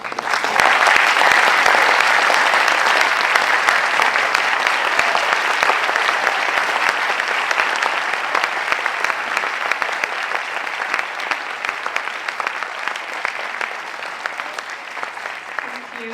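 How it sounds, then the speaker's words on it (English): An audience at a high school graduation ceremony applauds the teachers with sustained, dense clapping. It is loud and continuous at first, then thins gradually over about sixteen seconds. "please give them a huge final round of applause"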